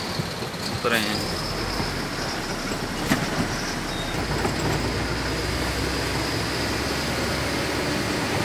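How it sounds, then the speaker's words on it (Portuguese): Train rolling past the old Crateús station in Ceará, Brazil: a steady broadband rumble of rail cars with a brief high screech near the start, continuous and fairly loud throughout. "Trem."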